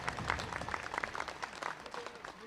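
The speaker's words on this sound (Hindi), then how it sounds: "आप भरपूर तालियां बजा के इनकी कुर्बानियों को जो है वो याद करें" An audience claps for security forces at a political speech, a scattered, moderately loud patter of many hands that keeps going steadily for a couple of seconds.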